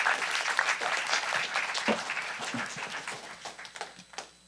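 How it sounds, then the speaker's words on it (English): Applause from the audience at a biotech pitch competition greets a contestant, a lively burst of many hands that thins out into scattered claps as it fades. "Round of applause for Neil and for all of our contestants for BioChallenge 2025"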